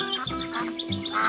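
A 3D animated duck on a farm quacks several times in quick succession, close and fairly loud, short nasal calls in an uneven rhythm.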